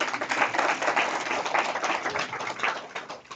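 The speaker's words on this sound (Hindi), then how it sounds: "सब ताली बजाएं जरा एक बार।" A church congregation claps together in a steady round of applause that stays dense and even throughout, heard at a middle distance.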